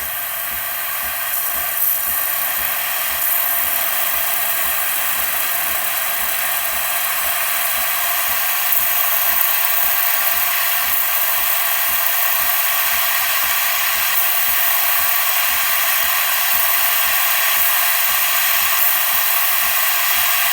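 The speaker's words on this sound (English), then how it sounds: "You can hear the pump kicking on now," A Breville XL espresso machine gives a loud, continuous hiss of steam over a steady pulsing pump hum, running unbroken throughout with no voices.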